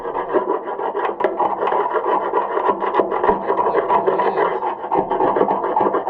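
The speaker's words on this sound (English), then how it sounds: "I think I need to get the screwdriver and scrape some of that." A screwdriver scrapes grime off a livestock trailer in a continuous rough, rasping rub, close and fairly loud with quick uneven strokes and no talking.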